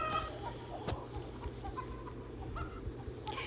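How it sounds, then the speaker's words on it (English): Chickens on a small farm cluck in a busy flock, with short repeated calls and a few sharper squawks close by over steady background noise. "Come on, chickens!"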